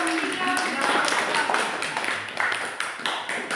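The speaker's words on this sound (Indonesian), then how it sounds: "berikan aplaus untuk" Classroom audience applauding a student group after their presentation, a steady patter of close hand claps mixed with some voices talking.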